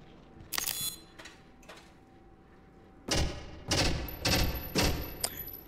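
Gunfire in a shooting video game: a couple of isolated sharp shots early, then a tight cluster of four or five loud, booming shots in quick succession near the end, with no talking.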